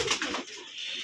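Domestic pigeons cooing, a brief soft burble close by with nothing else over it.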